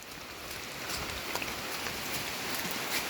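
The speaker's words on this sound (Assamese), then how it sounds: "চাওক গাইজ বৰষুণ একদম পূৰা" Steady rain hiss fills the scene, a constant wash of drops with faint patter on surfaces and no voices.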